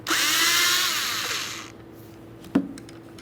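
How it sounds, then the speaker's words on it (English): Power tool fitted with a T27 Torx socket spins out the mounting screw of a Ford Fusion 2.0L MAP sensor on the intake manifold, a loud whirring burst lasting about a second and a half, then dying away before a single sharp click. "I'll be using a T27 torque socket to remove this mounting screw."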